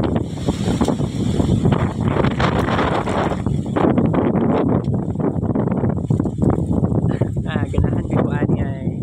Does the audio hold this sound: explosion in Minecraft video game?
no